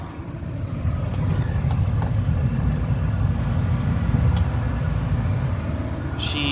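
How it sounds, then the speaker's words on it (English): A 1994 Ford F150 with the 4.9L engine idling, a steady low rumble held throughout, with a couple of faint clicks above it. "But you'll notice that the fuel pump for the front is way quieter. Truck still runs."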